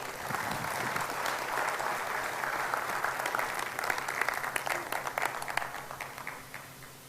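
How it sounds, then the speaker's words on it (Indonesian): An audience at a business leadership training event claps for absent colleagues, a steady wash of many hands applauding for several seconds before tapering off slightly, fairly distant and soft. "Tepuk tangan untuk rekan-rekan saya yang tidak hadir"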